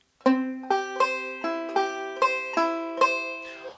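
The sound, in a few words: banjo in the mood roll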